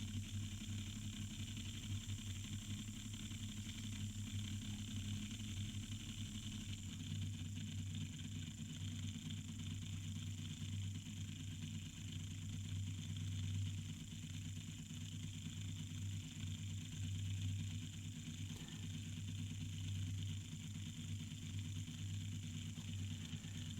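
Slot car gears loaded with grinding paste run in on a slow setting, giving a steady low motor whir and hum that drones on without a break, fairly quiet and with no talking.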